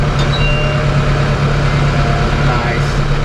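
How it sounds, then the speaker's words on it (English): A tractor engine running close and loud, its steady diesel drone holding level as the throttle is eased up a little, with a brief high beep near the start. "Let's pump up the throttle a little bit."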